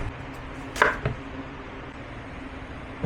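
A knife slices a batuan fruit in the middle, giving one crisp cut followed by a second lighter tap against the board. Both are brief and close against a quiet kitchen background.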